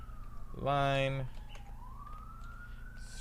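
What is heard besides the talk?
police sirens outside in Brooklyn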